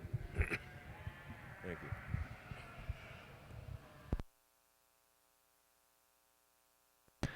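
Yearling ewes bleat in a sheep show ring amid crowd hubbub and people talking, a few short bleats early on before the sound cuts to near silence.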